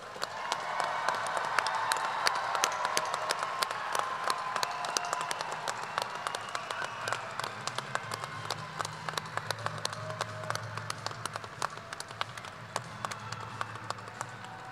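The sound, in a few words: audience applauding graduates at commencement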